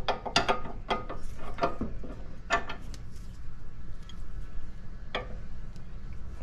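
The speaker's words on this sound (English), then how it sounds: "And then just start tightening it down." A ratchet tightens a nut during lower ball joint and tie rod end work on a Lexus GS300/GS400, with close, crisp clicking bursts in uneven runs over a low background hum.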